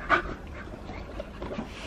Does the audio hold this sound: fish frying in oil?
no